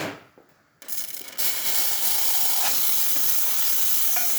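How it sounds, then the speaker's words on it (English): A Pasquini G4 espresso machine steam wand, freshly serviced, gives a loud, steady hiss that starts after a brief quieter moment and builds quickly, then holds strong and constant. "Nice strong steam."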